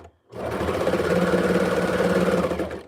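Serger sewing machine running steadily while its blade trims fabric for a club dress, a continuous close mechanical whir after a brief quiet start.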